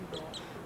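Ducks being fed outdoors in Fort Myers, Florida give two short, nasal quacks in quick succession, moderately close over a murmur of background noise.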